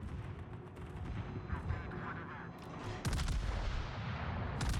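Warship guns firing in a naval combat game with the Metz: rumbling distant booms build, then a heavy salvo of sharp cracks hits partway through, followed by sustained loud rumbling.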